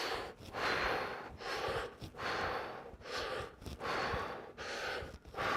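Heavy rhythmic breathing during a squat exercise, about five long, loud, close breaths in steady succession with brief pauses between them.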